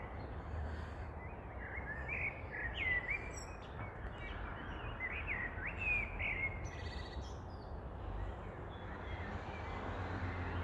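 Several small birds chirp and tweet in short, high, scattered calls near a nest during an evening walk in England, moderately close over a soft, constant outdoor rumble.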